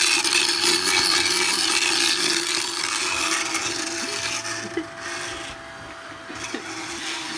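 A powered dental tool grinds steadily against a horse's molars, a continuous buzzing whir that is loud at first, then eases off with a few brief scraping bumps as the tool shifts on the tooth.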